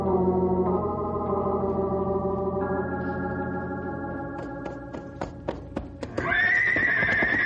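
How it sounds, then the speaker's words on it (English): Horses whinny and neigh in long drawn-out calls, with a few sharp hoof taps, then a loud high whinny near the end. "Water! The horses smell water!"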